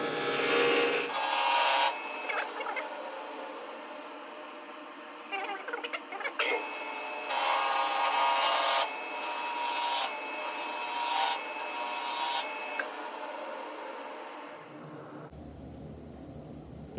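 A woodturning lathe cuts a small wooden sphere for a tongue drum, giving bursts of scraping, rasping tool contact that start and stop repeatedly over a steady motor hum, loud and close.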